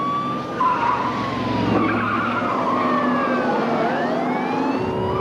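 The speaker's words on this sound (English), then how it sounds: "He sped off from the traffic stop." A car speeds off from a traffic stop with tires skidding in a loud, sustained screech, while rising and falling siren-like wails sweep through the background; no one speaks.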